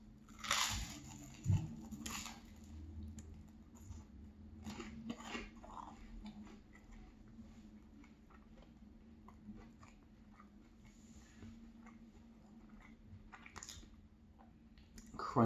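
Someone chews crunchy toasted maple cinnamon bread, giving faint, intermittent crunches and soft mouth sounds with occasional light clinks of dishes over a quiet background.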